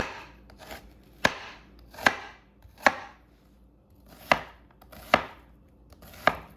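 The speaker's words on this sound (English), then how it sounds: "This is the best way to chop an onion if you're just doing a rough chop." A knife rough-chops an onion on a cutting board: six sharp, evenly spaced thuds land close by, each with a crisp crunch, over a quiet background.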